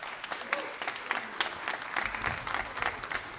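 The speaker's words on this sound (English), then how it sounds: "Let's hear a round of applause for them." Audience applause at a youth jazz ensemble concert, scattered claps that start sparse and grow denser as more hands join in, with some sharper nearby claps standing out.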